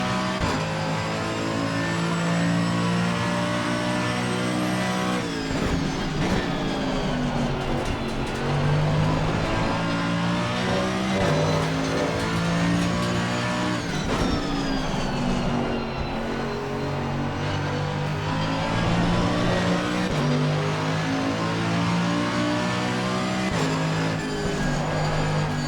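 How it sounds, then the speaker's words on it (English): A Mercedes-AMG GT3 Evo race car in the Assetto Corsa Competizione sim racing at Watkins Glen during a sprint race: a loud, continuous engine roar that rises through the revs and dips at gear changes. "Love the sound of this AMG."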